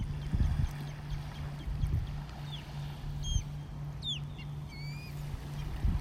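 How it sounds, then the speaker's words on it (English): An osprey calling over a North Naples, Florida beach, a few short, high, thin chirps in the distance over steady low engine-like rumble and soft background noise. "Can you hear that osprey? Can you hear the osprey?"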